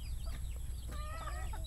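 Backyard chickens cluck and chirp during afternoon feeding, giving several short overlapping calls, close and fairly loud over a low steady background hum, with no talking.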